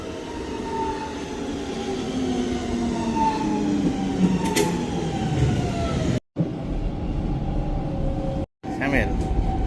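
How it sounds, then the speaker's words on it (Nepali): A metro train in Helsinki pulls into the station, a loud sustained rumble with falling whine tones as it slows, continuing steadily with brief cuts near the end. "मेट्रो आउँछ अब त्यहाँबाट"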